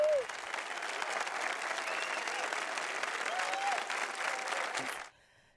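A small group's applause of hand claps, a dense continuous patter at steady loudness for about five seconds that cuts off abruptly, with a faint voice or whoop mixed in.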